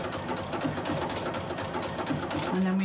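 A sewing machine fitted with a flower foot stitches steadily, its needle ticking in a fast, even rhythm up close, with a slight engine-like hum beneath and no talking over it.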